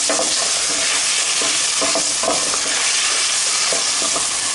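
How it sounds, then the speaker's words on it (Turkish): Onions sizzle and crackle loudly in hot vegetable oil in a pot with seared beef cubes, a steady frying hiss with occasional stirring scrapes and no talking. "Suyunu çekince sıvı yağ ekliyoruz soğan ekliyoruz. Bu şekilde kavuruyoruz"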